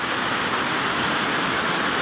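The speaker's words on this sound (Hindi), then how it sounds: "नदी के शोर की वजह से हो सकता है नाज़रीन को आवाज़ साफ ना आ रही हो" A steady, dense roar of rushing water fills the whole clip without pause, broad and constant like a fast river close by.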